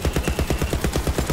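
Rapid automatic gunfire in the video game Borderlands 3, a fast even burst of shots repeating without a break, loud and close.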